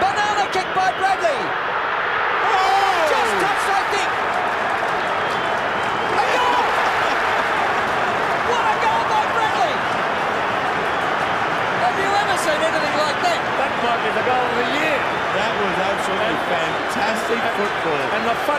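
A football stadium crowd roars continuously for a Carlton goal, a dense, loud cheer that swells and holds, with a commentator talking over it.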